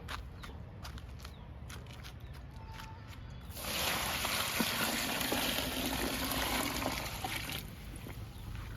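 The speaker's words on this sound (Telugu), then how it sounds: "నిండుగా పోసేద్దామండి వాటర్ని." Steady rushing water pours from about the midpoint onward, a broad continuous gush into a container of groundnut oil cake for plant liquid fertilizer, following quieter trickling and faint knocks.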